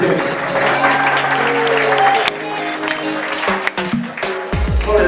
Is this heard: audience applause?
yes